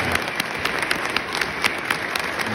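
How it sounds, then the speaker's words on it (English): An audience at a live show claps loudly and continuously, a dense even roar of many hands close by. "Can you guys give Rachel a round of applause for doing this?"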